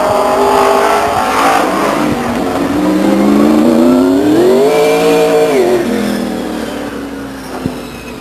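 Late model stock cars at Stockton 99 Speedway, a loud sustained engine roar rising and falling in pitch as a car accelerates past, then fading slightly toward the end.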